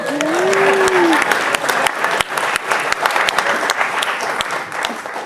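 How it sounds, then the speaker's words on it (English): A comedy club crowd applauds steadily, dense clapping filling the room with sharp individual claps standing out, and a brief voice at the start. "Can we applaud that while I stand?"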